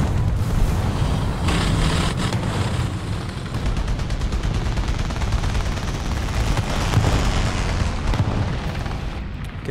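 Heavy 15cm sIG 33 B Sfl self-propelled howitzer gunfire and battle booms in War Thunder ground realistic combat, a dense, continuous roar of low rumbling blasts and crackling shots throughout, loud and close.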